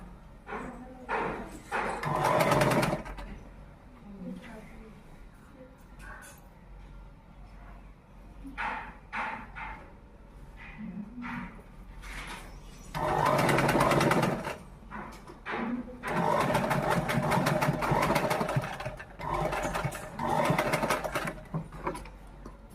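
Sewing machine stitching a uniform shirt runs in several loud bursts of rapid whirring, the longest two near the end, with quieter handling, pauses and faint background sounds between runs.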